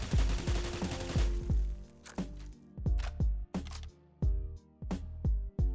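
In the CS:GO game on the de_nuke map, a rifle fires into the floor in a rapid burst and then in spaced single shots and short pairs, each report close, punchy and abrupt.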